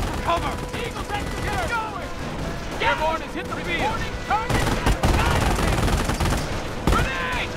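Machine gun fire and other gunshots in the World War II strategy game Company of Heroes, rapid bursts and scattered shots layered over battle noise, with someone talking over the action.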